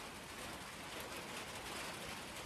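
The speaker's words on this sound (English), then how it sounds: "You can hear the raindrops hitting the top of the tin." Raindrops patter on the tin roof of a woodshed in rural Maine, a faint, even hiss of many small impacts with no distinct individual drops and no voices.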